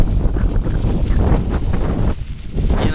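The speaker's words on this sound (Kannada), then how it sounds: "ಗಾಳಿ ಎಲ್ಲಿದೆ ನೋಡಿ." Strong gusty wind at a waterfall viewpoint in Maharashtra roars loud and close, buffeting the microphone with a constant rumbling rush.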